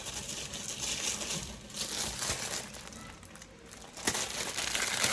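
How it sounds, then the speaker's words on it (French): Close paper crinkling and rustling in irregular bursts, louder crackles near the end, with no voices. "excusez-moi pour les bruits de papier"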